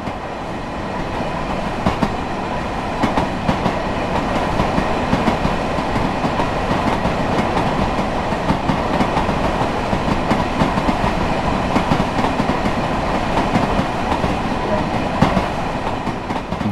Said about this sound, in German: Sie fahren derzeit einen M7 elektrischen Triebzug, der aus 4 A- und B-Personenwagen besteht.